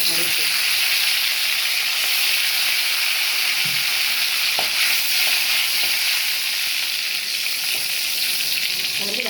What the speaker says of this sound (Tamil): எண்ணெய் காஞ்சி வச்சு பச்சை மிளகா போடுறேன்